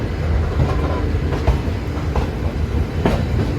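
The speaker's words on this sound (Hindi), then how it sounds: "यहाँ से न्यू जलपाईगुड़ी से हम लोग प्लेटफॉर्म को छोड़ रहे हैं" A passenger train pulls away from the platform at New Jalpaiguri station, its steady low rumble and rhythmic wheel clatter continuous and close, with occasional sharper knocks from the rails.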